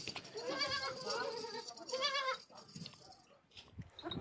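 A goat that has just given birth, one of its kids stillborn, bleats repeatedly in a farm shed in cold weather, a series of loud wavering cries through the first half followed by quieter, fainter calls.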